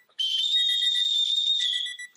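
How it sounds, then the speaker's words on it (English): A referee's whistle marks the end of a quarter at a women's football game with one loud, sustained shrill blast lasting about two seconds, heard alone and close. "I blew the whistle, right? The quarter ended."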